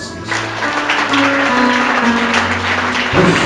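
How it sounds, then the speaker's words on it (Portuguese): A congregation claps during a church service, a continuous wash of applause over sustained keyboard or organ tones, loud and close throughout. "Palmas para Jesus Cristo."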